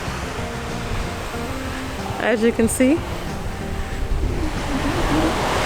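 Ocean surf on a beach in Spain rolls in as a continuous loud, broad wash of noise, with a person talking briefly over it midway.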